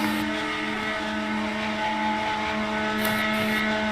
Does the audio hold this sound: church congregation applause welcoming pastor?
no